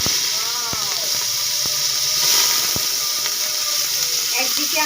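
Onions frying in hot oil in a pot for beef haleem give a steady, close hiss and sizzle, broken by a few sharp clicks and faint tonal sweeps in the background.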